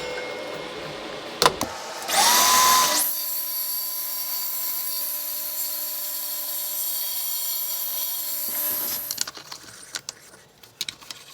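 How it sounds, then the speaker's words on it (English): A saw spins up with a loud whine and cuts a fraction of a millimetre off the bottom faces of a mitre saw fence, holding a steady high tone for several seconds before winding down, followed by a few scattered knocks. "I had to take these off and cut a fraction of a millimetre from the bottom faces to allow the saw to pivot freely."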